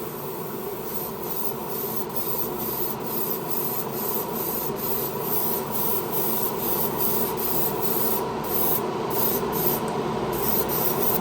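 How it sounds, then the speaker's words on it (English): A Dragonair airbrush sprays a base coat of automotive paint, a continuous close hiss of atomising air running steadily without pause or voices. "the Dragonair, it's throwing out the base coat beautifully"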